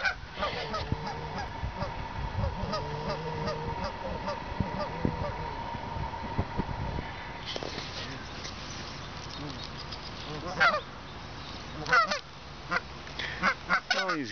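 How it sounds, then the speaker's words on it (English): A flock of geese honks on a golf course, with repeated nasal honks from several birds at varying distances, busiest early on and thinning to scattered louder calls, with some background noise. "All these geese are on here."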